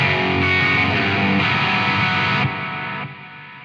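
A heavily distorted electric guitar chord rings loud and sustained, washed in echo and reverb, then drops in level as it decays.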